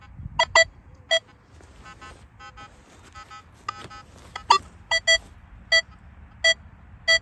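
Short electronic beeps from a metal detector set to high reactivity, a dozen or so brief tones at irregular intervals over faint background noise.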